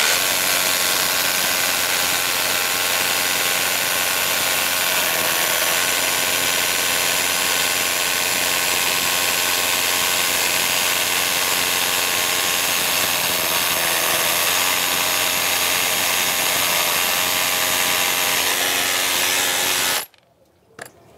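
A power drill bores a 10 mm hole into a concrete beam, a loud, steady droning whine held for about twenty seconds before cutting off abruptly at the end.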